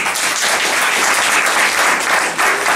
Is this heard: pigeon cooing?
no